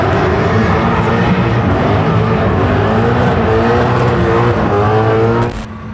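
Honda IndyTruck, a race-engined truck, idling loud and close with a rough, steady engine drone and shifting harmonics that hold for several seconds, then the sound cuts off abruptly near the end.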